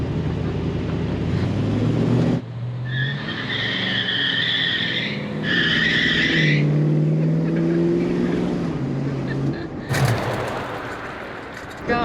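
A 797-horsepower Dodge Hellcat Redeye accelerates hard with its tires skidding and squealing in long, loud bursts over a deep engine roar, with people talking in the car.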